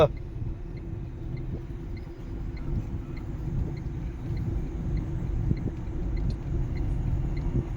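A car driven by a first-time learner driver in India, heard from inside as a steady low engine rumble and road noise, with a faint background voice and occasional small bumps.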